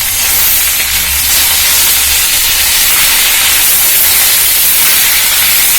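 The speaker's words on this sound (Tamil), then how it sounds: "இந்த கொத்தமல்லியும் புதினாவும் மட்டும் போட்டு 2 கிண்டு இறக்கிடுறேப்பா" Coriander and mint leaves hit hot oil with a loud, continuous, close-up hiss that stays broad and steady throughout, with no voices over it.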